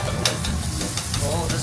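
Kobe wagyu beef pan-frying, a close, continuous hiss of sizzling fat with light stirring scrapes, brief and steady throughout.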